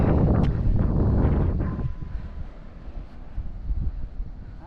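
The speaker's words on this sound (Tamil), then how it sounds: "இப்போ காற்று வருது" Strong wind gusts roar against the microphone for about two seconds on a rock hill at a Buddhist temple in Kurunegala, then ease into a lighter, uneven buffeting.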